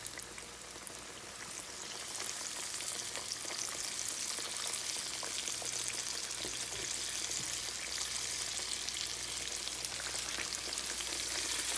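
Pork chops frying three at a time in a pan, coated and cooked with the breading left on, giving a steady, dense sizzle with fine crackles that builds slightly after the first two seconds and then holds even throughout, with no talking.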